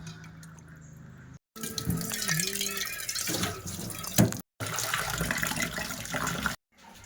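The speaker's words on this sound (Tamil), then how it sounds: "மீனை நல்லா நீட்டாக கழுவியாச்சு." Pieces of sardine (salai meen) are washed under a running kitchen tap, with water splashing and gurgling in several stretches broken by brief silent cuts.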